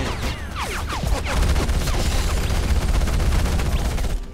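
Dense, loud gunfire and explosions in the video game Battlefield Heroes, with rapid bursts overlapping into a continuous fusillade for several seconds.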